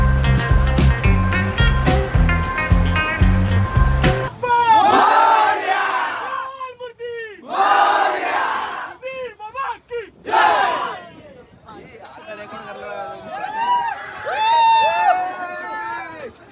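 A noisy crowd fills Parel station in Mumbai, with loud shouting bursts and babble in waves after a sustained tonal horn-like sound at the start.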